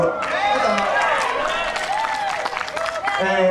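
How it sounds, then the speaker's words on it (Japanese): An audience claps along in rhythm to a rock-and-roll style song at a live outdoor festival stage, steady handclaps mixed with the music and singing voices throughout. "手拍子を鳴らす"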